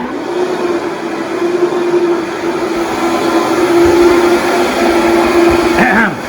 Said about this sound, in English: Cleaning the blender.